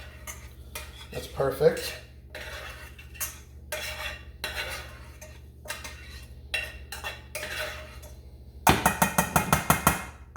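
Metal utensil stirring and scraping lemon buttered orzo pasta in a pan, with irregular clinks and scrapes and a rapid burst of taps near the end; a voice briefly speaks.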